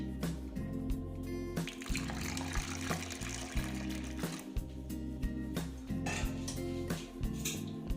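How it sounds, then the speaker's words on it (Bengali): Water poured into a bowl of gram flour and semolina batter for a mung dal snack, a steady splashing trickle with clinks of utensils against the bowl under a low rhythmic kitchen hum. "তারপরে আমি একটু জল দিয়ে দিচ্ছি"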